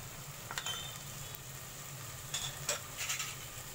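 Chili powder, turmeric, garam masala and cumin powder frying in a pan for goat trotter paya, a soft steady sizzle with a few light scraping stirs near the middle and end.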